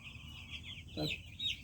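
Farm chickens cluck on a poultry farm during vaccination, with soft fowl calls and a couple of sharper clucks standing out above a steady background hiss.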